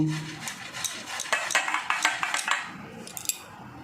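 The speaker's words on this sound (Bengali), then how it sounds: "এই যে আমি সিদ্ধ আলু দুটো গ্রেট করে নেব একটু" Boiled potatoes rubbed over a metal grater, a quick run of close, rhythmic scraping strokes with light clinks, louder in the middle and tapering off.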